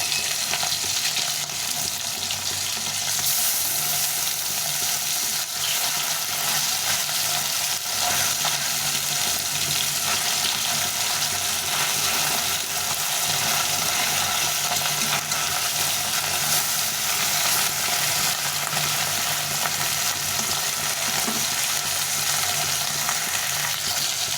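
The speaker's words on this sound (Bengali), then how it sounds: "একবারে পাঁচটা দিয়ে ভেজে নেব মাছগুলো" Bata fish frying in hot oil, five pieces at a time, producing a loud, dense, unbroken sizzle that holds steady and close for the whole stretch.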